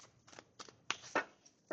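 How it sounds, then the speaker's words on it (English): Tarot cards are shuffled by hand in faint, quiet bursts of soft papery riffling and slapping, a few separate strokes spread across a short moment. "And I just did all that shuffling"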